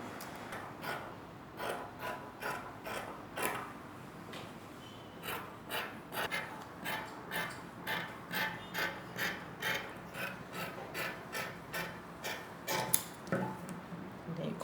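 Scissors snip through fabric for a circle dress, a run of rhythmic crisp cuts and rasps, each stroke close and distinct, repeating at a steady pace with no talking.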